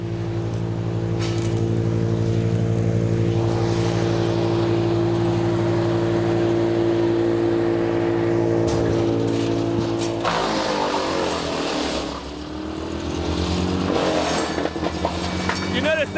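A BearCat wood chipper engine runs at steady high revs close by, then sags as harder wood feeds in before recovering, its loud drone interrupted by crunching and grinding.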